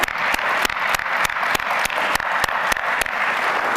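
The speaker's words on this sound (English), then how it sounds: "Let's give her a round of applause." Applause fills the room at a business awards ceremony, a crowd's wash of clapping punctuated by sharp, evenly spaced nearby claps repeating roughly three times a second.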